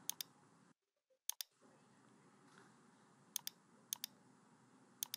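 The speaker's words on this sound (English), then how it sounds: "Now click on search result." A computer mouse clicks sharply in pairs and singles at irregular intervals on a Windows 10 PC, quiet and close against faint room hiss.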